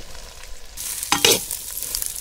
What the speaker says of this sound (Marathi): कांदा असा बारीक चिरून घ्यायचा आणि मग भाजून घ्यायचा तेलात